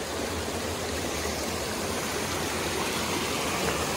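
Water pouring steadily over a spillway in a park beside old mill ruins, a continuous broadband rush that stays loud and even throughout with no voices.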